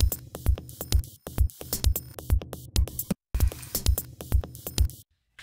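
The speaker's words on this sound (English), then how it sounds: "So the drums sound like this." Drum track played back in a music production session, a steady groove of punchy kicks and bright cymbal hits, with a brief dropout near the end.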